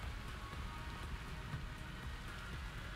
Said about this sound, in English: Oh no, it's raining again.